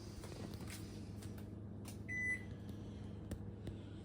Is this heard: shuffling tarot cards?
no